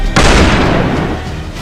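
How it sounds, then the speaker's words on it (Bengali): A single loud, close gunshot sound effect for an eliminated player in a Squid Game-style drink-tasting challenge: a sudden boom with a long, fading rumbling tail. "Player fire."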